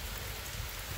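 Light rain falling outdoors under a calm sky with barely moving leaves, a soft steady patter with low rumble, close and even throughout the short stretch.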